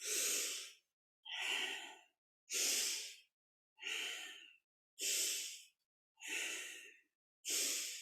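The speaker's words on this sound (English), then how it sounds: "Inhaling up and forward, exhaling down and back." Slow, deep breathing paced to wide backward arm circles in a kundalini yoga morning practice: seven loud, close breaths alternate between inhales and exhales, each about a second long with short pauses between, and no talking.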